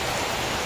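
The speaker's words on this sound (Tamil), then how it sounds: "அதை அடுப்பு பற்ற வச்சோடனே செம்ம மழை" Heavy rain pours down steadily outdoors during a festival cooking fire, a dense, constant hiss of falling water with no gaps across the short moment.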